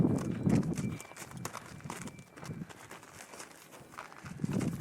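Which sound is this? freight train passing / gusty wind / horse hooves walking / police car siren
horse hooves walking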